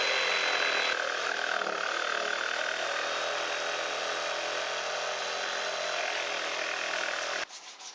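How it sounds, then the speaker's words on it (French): Jigsaw cutting through a pine panel, a steady loud buzzing saw drone lasting several seconds before stopping abruptly near the end, with no talk. "je découperai ensuite à la scie sauteuse à l'intérieur de mes deux lignes"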